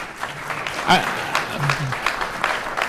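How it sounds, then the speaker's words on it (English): Applause from a conference audience, a steady patter of clapping that carries on throughout, with a voice speaking over it. "Yeah, you can clap."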